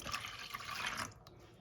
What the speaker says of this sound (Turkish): Suyumuzu da ekledim.